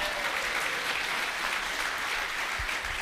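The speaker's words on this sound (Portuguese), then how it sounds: "Uma salva de palmas para ele." Dense, steady applause from a seminar audience, a continuous loud wash of clapping filling the whole stretch with no pauses.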